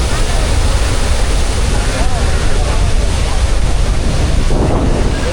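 Athirappilly Falls pours with a dense, loud roar of falling water, mixed with heavy wind buffeting the microphone, continuous throughout with no clear voices.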